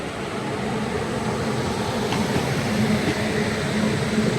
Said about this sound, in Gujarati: વેગ 9 લોકોમોટિવ સાથે પોરબંદર રાજકોટ ટ્રેનનું ક્રોસિંગ